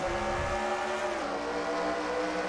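Race cars at a bullring speedway start a heat race, their engines holding a loud, steady droning roar with a pitch that dips briefly midway, with no talk.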